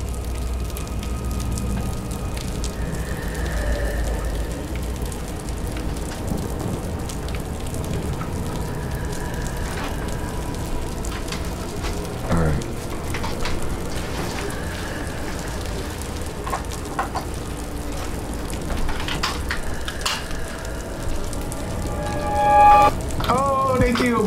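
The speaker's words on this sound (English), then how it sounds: "Oh man, it's raining." In the horror video game Wick, steady rain patters on a surface throughout, with soft, scattered drops and occasional brief tones over the continuous hiss.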